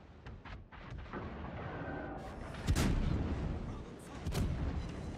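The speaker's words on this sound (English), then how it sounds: "we got some salvos out there" Naval artillery salvos boom in World of Warships, heavy rumbling blasts with sharp louder shots around the middle and near the end over a constant battle roar.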